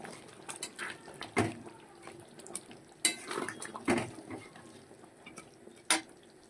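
Fenugreek greens being stirred into chicken in a home-cooked pan give off scattered utensil clinks and scrapes against the metal, with soft sizzling between the sharper knocks.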